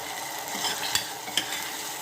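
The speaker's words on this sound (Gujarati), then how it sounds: "હવે આ ચડી જવાય એવું તો આપણે એમાં ટમેટા નાખી દઈશું।" Tomatoes go into frying dal in a pan, giving a steady soft sizzle with a couple of brief stirring scrapes, close and fairly quiet, with no voices.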